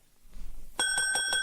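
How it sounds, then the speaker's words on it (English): A bell on a shop counter rings with several quick bright strikes, its metallic tone ringing clear and close in a quiet room. "There was a bell on the counter."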